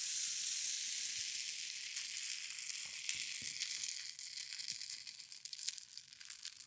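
Bacon pancake batter sizzles in a cast iron pan over a lakeside campfire, a steady bright hiss with soft crackles and occasional pops, close up, with no talking.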